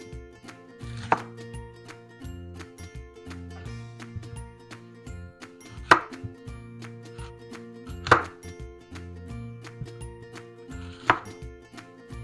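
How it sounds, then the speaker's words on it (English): Knife cutting apple into small pieces on a board for apple pie filling, with a few sharp distinct chops spaced apart over steady background music. "Now let's slice them into small pieces"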